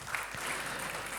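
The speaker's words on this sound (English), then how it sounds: "Big round of applause" Faint, steady audience applause at a corporate event as an executive is welcomed on stage, continuous clapping heard from a distance.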